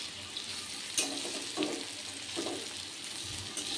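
Taro (kochu) pieces frying in hot oil just after being flipped, a steady broadband sizzle with a few soft clatters of the turning utensil, close and continuous with no one talking.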